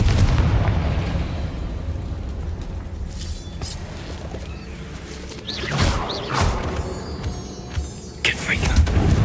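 Confringo fire spells explode in a Hogwarts Legacy game fight, several booming bursts over a constant rumbling din, the strongest blasts landing near the end.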